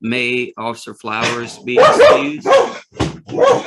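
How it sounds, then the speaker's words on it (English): A dog barks repeatedly in a courtroom, several loud, close woofs and yips in an uneven rhythm, mixed with someone speaking at the same time. "Whoa, that's a dog."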